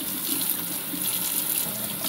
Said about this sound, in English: I'm going to rinse it out here